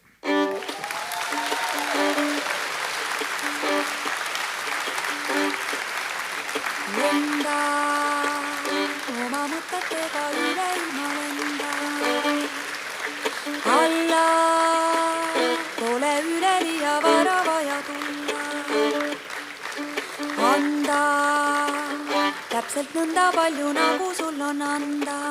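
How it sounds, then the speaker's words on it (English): An audience applauds as a speaker arrives on stage at a yoga event in Estonia: sustained, dense clapping fills the hall throughout, with music playing underneath, tonal notes and chords rising and falling over the steady applause. "I think this is not enough applause."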